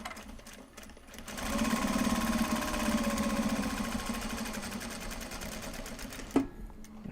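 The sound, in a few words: sewing machine stitching a Japanese fabric bag strap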